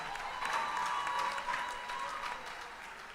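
At an award ceremony during the AccounTech Summit 2025, a crowd keeps clapping for the Finance Mentor of the Year winner; even, moderately quiet applause holds for about three seconds and softens toward the end.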